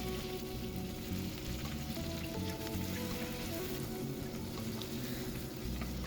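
Chopped onions sizzle and crackle steadily in hot oil with black cumin seeds for a fish curry, a dense, continuous frying hiss close to the pan with no talking.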